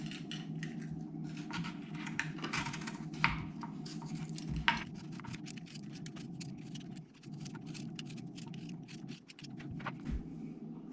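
Potatoes being peeled by hand in an outdoor kitchen, a steady stream of soft scraping strokes and small knocks against a constant low hum, with no talking.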